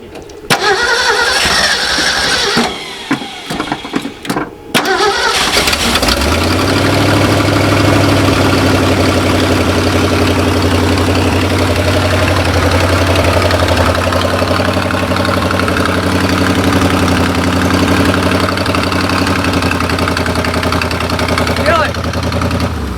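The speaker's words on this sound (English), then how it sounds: "Just start it and then let it run" A 1969 Ford dump truck engine cranks in a few uneven bursts, catches and settles into a loud, steady low rumbling idle that runs on alone, close by.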